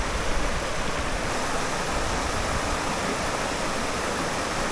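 Steady, loud rushing of a small waterfall pouring into a trout stream, continuous broadband water noise filling the whole stretch with no voices.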